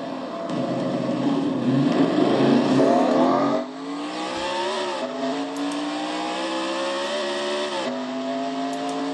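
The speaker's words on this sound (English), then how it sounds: "Adrian Becker stalls the car and then finally gets the car to start and gets it going again" A race car in a racing video game engine revs hard and climbs through gears after stalling, the engine note rising steadily, dipping at a shift, then climbing again, loud and close with no talk.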